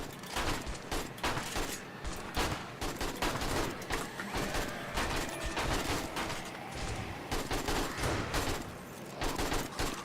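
Rapid overlapping gunfire from the pipe pistol and other weapons in the game 7 Days to Die, a dense, continuous barrage of sharp cracks with no pauses.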